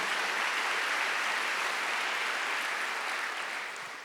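A church congregation applauds during a Sunday worship service, a steady, dense wash of clapping that fills the room evenly and tapers slightly at the end.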